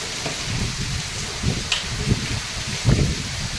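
Heavy rain driven by strong wind pours down over farm fields, a dense, steady hiss with low gusty thumps rising and falling throughout.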